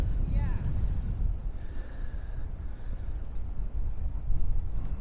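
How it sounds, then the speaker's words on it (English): Strong wind buffets the microphone at an exposed lookout in Juneau, Alaska, a steady low roar with gusts throughout and a faint tonal whistle under it. "that wind is intense"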